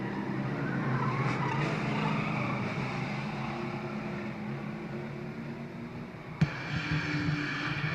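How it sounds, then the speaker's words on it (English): Tires squeal as a race car slides around a corner during a Chevrolet battle for position, a long sustained skid heard at a distance with a sharp brief knock near the end. "And Rod, 8 car, takes a slide around."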